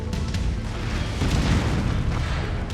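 A weapon blast destroys a turret in the MechWarrior 5: Mercenaries video game, giving a loud, rolling boom with a sustained rumbling tail that swells midway through, with no speech over it.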